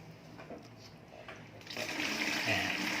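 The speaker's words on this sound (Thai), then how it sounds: "เราจะต้องทำการถ่ายน้ำที่อยู่ในถังออกก่อนนะครับ ถ่ายออกให้หมดเลยนะครับ" Water drains out of a laundry steam iron's boiler tank, starting as faint trickles and then swelling after a moment into a steady, rushing gush that continues to the end.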